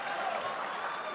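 Steady applause from an esports event audience, a dense wash of many hands clapping at once, continuous and moderately loud throughout with no distinct voices.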